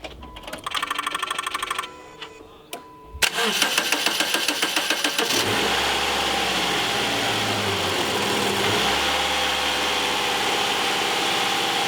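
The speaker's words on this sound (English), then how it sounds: "You'll notice that the engine had a little bit of difficulty getting started." A car engine cranks in short starter bursts after a battery replacement, pauses, cranks again with rapid churning, then catches and settles into a steady close idle.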